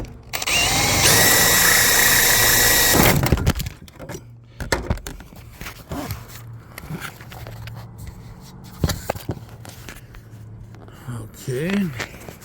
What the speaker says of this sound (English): Then let's drill it.